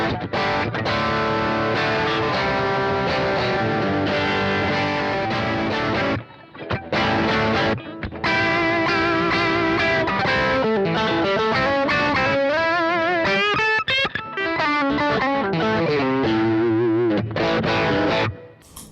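Overdriven electric guitar through a Vox MV50 amp set to distortion, thick crunchy chords and riffs played continuously for most of the stretch with a couple of short pauses, loud and close-miked with no voices.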